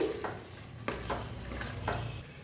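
Fried potato and pointed gourd being stirred into chhana in a pan, with three soft scraping stirs over a low sizzle at close range and no talking.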